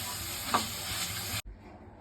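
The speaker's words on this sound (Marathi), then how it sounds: "हे छान मिक्स करून घेऊयात" A spoon stirs a fresh coconut burfi mixture in a hot pan, making a soft scraping sizzle with one brief clink before the sound cuts off abruptly, with no voices.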